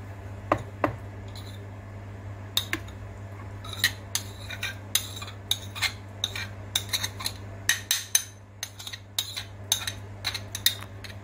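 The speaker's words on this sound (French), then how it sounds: "Et maintenant, je continue à hacher." A knife chops onion, parsley and coriander on a cutting board, giving a steady run of sharp, close taps with short pauses over a constant low hum, and no one speaks.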